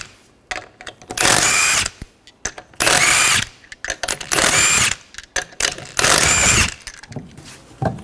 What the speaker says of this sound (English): Remove the lug nuts, use a 19 millimeter socket.